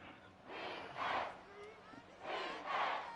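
Stadium crowd in Madden 24 football rises in two loud swells of chanting, broad and roaring at mid distance, with a quieter murmur between the surges and no clear talk over it.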